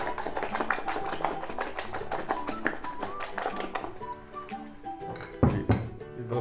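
A spoon clinking and tapping against a bowl while pizza paratha ingredients are mixed, a quick run of bright metallic taps in an irregular rhythm, close and clear, ending with a louder knock.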